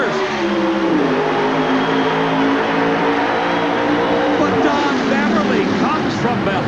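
Oldsmobile and Pontiac Trans Am Firebird drag race cars roaring loudly off the line at an NHRA national event, a dense sustained engine blast with rising pitch sweeps, continuous and close throughout.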